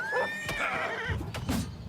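In the video game Oblivion Remastered, a horse being attacked lets out a loud, close whinny, followed by thumping hooves and a second shorter neigh.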